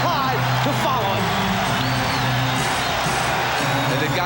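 Home crowd roaring in a Portland arena during the 1992 NBA Finals, a steady loud wash of cheering and shouting with whoops rising above it and faint commentary voices underneath.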